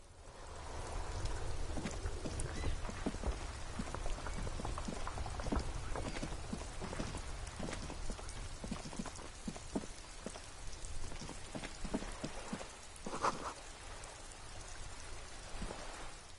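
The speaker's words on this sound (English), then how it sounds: "This rain will not let up anytime soon." Steady rain pours across the open world of the video game Elden Ring, a dense, even hiss that holds throughout with scattered droplet taps and a few louder splashes, no voices present.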